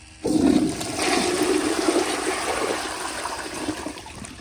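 A 1951 Crane Neuday toilet on a flushometer valve set to 1.6 gallons flushes with a sudden loud rush of water that surges, then slowly tapers into a steady draining roar, close and alone.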